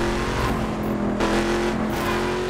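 In the video game The Crew, a car drives against traffic with a steady engine drone and road roar, and a brief louder swell from passing traffic midway, all continuous and fairly loud.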